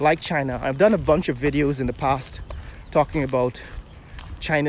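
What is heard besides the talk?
No everyday noise stands out behind the speech.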